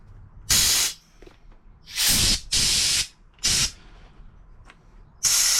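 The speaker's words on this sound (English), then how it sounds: "Put some compressed air back through this nozzle and see if we can clear it." Sharp bursts of compressed air hissing through a Range Rover Sport L320 washer jet nozzle, five or so blasts of about half a second, loud and close with quiet gaps between.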